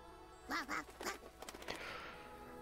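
A duck-like creature in the video game If My Heart Had Wings quacks twice in quick succession, followed by a few shorter squawks and pecking sounds, fairly faint.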